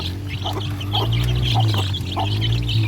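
Around twenty young chicks on a small farm chirp in quick, high, scattered peeps, repeated through the stretch over a steady low engine-like hum in the background.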